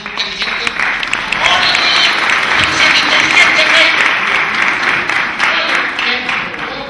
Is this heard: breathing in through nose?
no